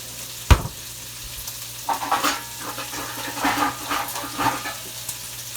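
A wooden spoon stirs a bean and bacon soup in a pot, giving rhythmic scraping and sloshing strokes over a low simmer, with a sharp knock near the start.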